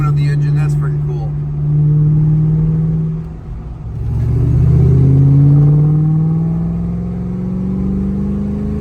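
A Ford Mustang Mach 1 V8 engine rumbles close by on a mountain road, revving up in a smooth rising surge, then settling back to a deep steady drone.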